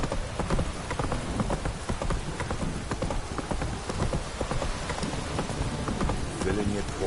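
Hooves of Roach, Geralt's horse in The Witcher 3, clip-clopping at a steady walking rhythm over a rain-like ambient hiss, with some voices talking over it.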